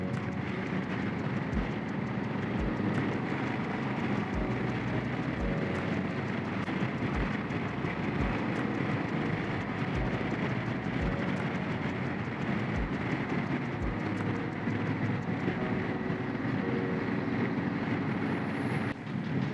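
A Sydney suburban train rumbles past at a distance, a steady broad roar with faint rhythmic clacks of wheels over rail joints.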